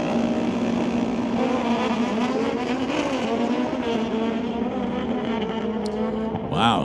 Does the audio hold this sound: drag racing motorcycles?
yes